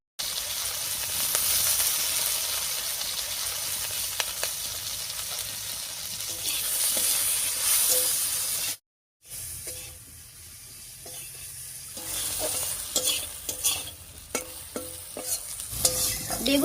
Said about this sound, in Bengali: এবারে কড়াইয়ে সর্ষের তেল দিয়ে বেগুনটা ভেজে নেব।